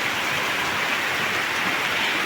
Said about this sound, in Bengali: ঝিমঝিম ঝিমঝিম করে বৃষ্টি পড়ছে